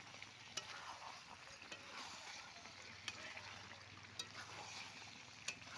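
Chicken being stir-fried in a pan, a steady, fairly faint sizzle with scattered light clinks and scrapes from stirring, no voices.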